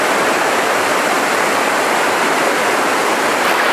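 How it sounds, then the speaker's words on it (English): Water rushes off a long flat rock into a pool on a brook trout stream, a loud, constant, close roar of churning flow. "the water just comes rushing off that"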